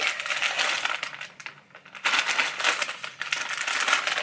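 Close, loud crinkling and tearing of a book shipping package, with a short pause before the rustling and ripping resume.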